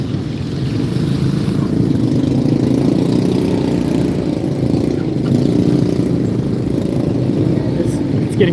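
A motorcycle engine runs steadily throughout at close range in hot weather in Cambodia, with a low rumbling idle and no break in the sound.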